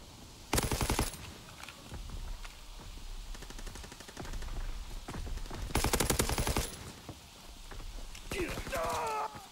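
Rapid automatic gunfire rattles out in a Call of Duty pro league match, with two loud sustained bursts and several shorter volleys between them, over a caster's voice and game sound effects.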